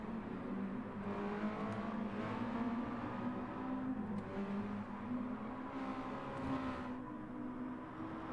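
Mazda Miata engines in a racing video game drone and whine steadily throughout, pitch rising and falling as they rev, dense and continuous with no talking.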